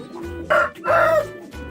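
A rooster in a cage crows in two loud, close bursts with clucking fowl sounds between them, and no voices are heard.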